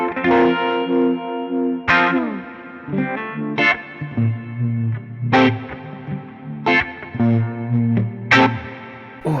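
Electric guitar through the U-Vibe effect on a Line 6 HX Stomp, a warm swirling, chorus-like modulation on several struck chords and notes with lingering sustain, loud and close with no talking.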